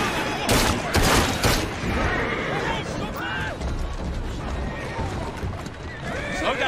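Gunfire volley in Assassin's Creed Syndicate: a burst of loud, sharp shots near the start, followed by chaotic game sounds with shouting voices and horse-like noises.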